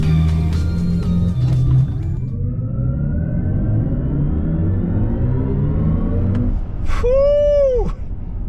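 BMW iX M70 electric SUV with 650 horsepower launching from a standstill, a rising electric whine climbing steadily over road rumble from inside the cabin, followed near the end by a brief sharp tonal sweep.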